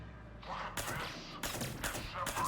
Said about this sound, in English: I'm using a suppressed pistol.